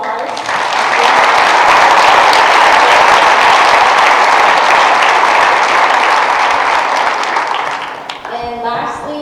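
Audience applause at an athletic awards ceremony, a dense sustained burst of clapping from a crowd that swells quickly, holds loud for several seconds, then fades as a voice begins speaking.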